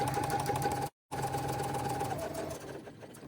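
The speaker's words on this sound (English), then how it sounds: "Line that up and sew down the side in the same direction as we did the first side to reduce the twisting in that vinyl strap." A sewing machine stitches down the side of a vinyl strap with a fast, steady mechanical whir. It stops for a brief moment, then resumes and fades slightly toward the end.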